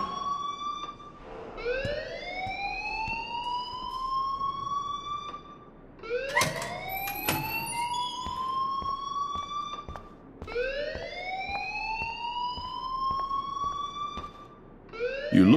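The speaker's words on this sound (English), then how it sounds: "please turn off that alarm since that's your job" A school alarm from the video game Life Is Strange rings in a loud, rising siren-like wail. It repeats about every four seconds in steady cycles, with no voices.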